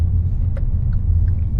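Heavy traffic crawls across a packed bridge, a steady low rumble of many car engines close by that fills the whole short stretch, with no talking.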